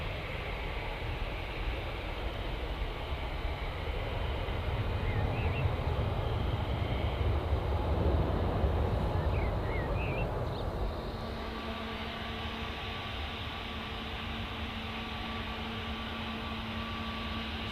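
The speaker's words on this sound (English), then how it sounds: "Those Tuis do like a long takeoff roll" A TUI airliner rolls down the runway on a long takeoff run, its jet engine roaring steadily at a distance and swelling slightly in the middle before easing off.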